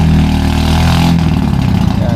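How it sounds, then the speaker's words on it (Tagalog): A fishing boat engine being test-run near the shore on a choppy sea idles with a steady low throb and then revs up into a rougher, pulsing roar, loud and close, while someone speaks over it. "Nagtitesting ng makina."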